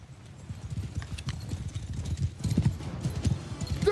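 Mounted horse archers in a video game, heard as a dense, rapid clatter of many hooves with occasional horse whinnies, growing louder as the riders close in.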